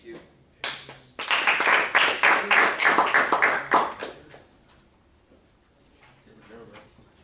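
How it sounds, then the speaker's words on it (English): A small group of people gives a short burst of close, rather light hand clapping lasting about three seconds, then it fades to a quiet room with faint talk. "That was kind of a weak clap."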